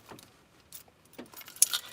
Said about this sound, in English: Where's my keys?